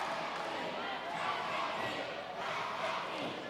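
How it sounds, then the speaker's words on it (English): A wrestling crowd at an MXPW show in 2006 roars and chants for the Briscoes, a dense and steady wall of voices across the whole stretch, with a commentator's voice partly buried in it. "There's a section of the crowd chanting for the Briscoes."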